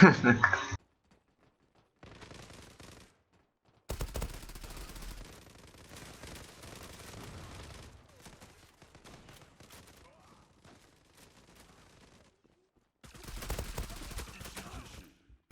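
Bursts of automatic gunfire from a UMP45 in the online shooter game Zula, several rapid volleys separated by quiet gaps, with a player talking over parts of the action.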